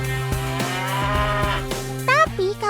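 A large cow lets out a long, low, steady moo, close and loud, followed by a brief higher-pitched call near the end.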